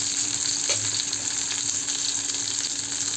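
Prawns fry in hot oil in a pan, giving a steady, close crackling sizzle that holds level throughout with no voices.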